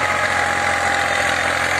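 A Same 503 tractor engine idles steadily with a 7-foot Shaktimaan rotavator attached, a continuous low rumbling drone with slight knocking vibration, close and loud, with no talk.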